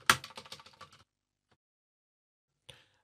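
A burst of quick keystrokes on a computer keyboard as SQL code is typed into Oracle SQL Developer, close and clear, stopping after about a second, followed by silence and one more isolated click.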